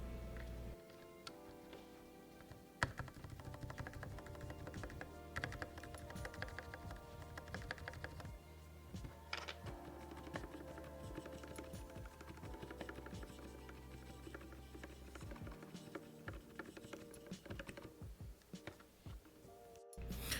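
Typing on an Anne Pro 2 keyboard with lubed switches and stabilizers gives a steady run of close, crisp key clacks and ticks for about twenty seconds, alone with no voices.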